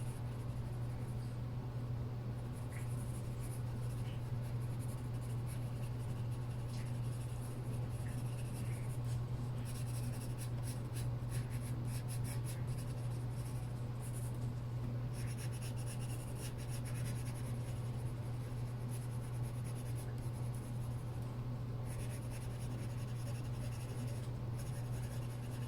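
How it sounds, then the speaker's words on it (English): Colored pencil scratching and rubbing steadily across paper while layering and burnishing color, a soft continuous close-up scribble over a low steady hum, with no talking. "Just add another layer of color, get us that much closer to burnishing it."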